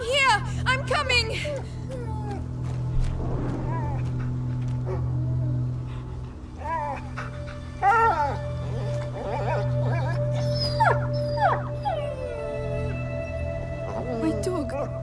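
A dog barks, yips and whimpers in A Plague Tale: Innocence. The short, scattered animal cries come close to the listener and mix with tense game voices and background music.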